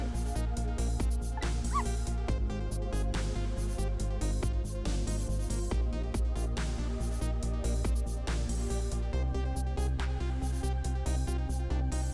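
A cartoon dog in the video game Ghost Trick barks, yips and whimpers in a run of quick repeated bursts over steady, busy game music.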